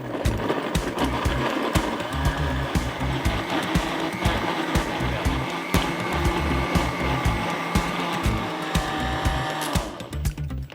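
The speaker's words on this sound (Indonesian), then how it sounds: "Lalu kita blender halus bumbunya." A kitchen blender grinds a spice paste of roasted shrimp paste and candlenuts with a little oil, giving a loud, steady motor whine that runs unbroken for the whole stretch with no talking.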